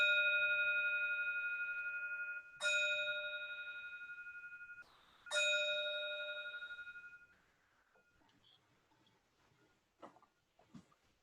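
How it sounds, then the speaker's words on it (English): A meditation bell at a Buddhist service rings three clear strikes, each a bright sustained tone that decays slowly in a quiet room, followed by faint soft rustles. "So with the sound of the bell, it transitions us into a meditation"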